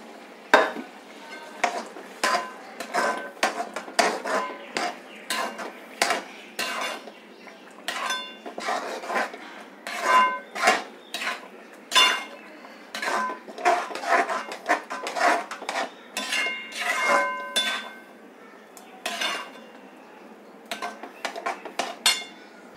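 A spoon or ladle scrapes and clinks steadily against a metal pot as rava pongal cooks, with boiling water and moong dal being stirred over a low, continuous bubbling hiss.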